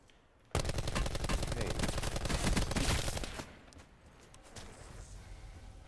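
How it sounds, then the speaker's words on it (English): Rapid automatic gunfire in a Call of Duty Blackout battle royale match erupts suddenly as a dense, loud burst lasting about three seconds, then drops to quieter ambient game sound. "Where's that shooting coming from?"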